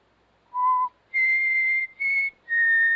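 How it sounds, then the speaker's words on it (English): A person whistles four clear notes, one short lower tone followed by three longer, higher held notes with brief gaps between them, close and alone. "I just whistle."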